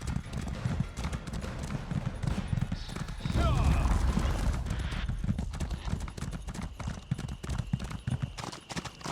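Rhythmic clip-clop of horse hooves trotting along at moderate volume in the video game Elder Scrolls Online, with a brief burst of louder movement partway through and a talking voice underneath.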